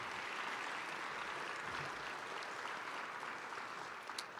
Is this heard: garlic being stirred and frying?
no